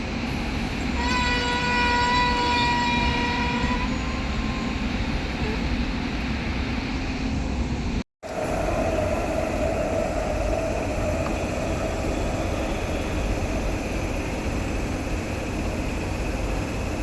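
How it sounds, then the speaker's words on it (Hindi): A passenger train running out of Anand Vihar rumbles steadily on the rails as it approaches Ghaziabad station, a loud horn blast sounding over the first few seconds before the close, continuous wheel-and-carriage roar carries on alone. "अपनी ट्रेन पहुंच रही है गाज़ियाबाद रेलवे स्टेशन पे।"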